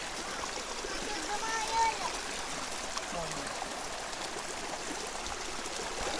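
Cold spring water flows from a pit near a forest waterfall, making a steady, close trickle and rush that runs without a break, with muffled voices in the background.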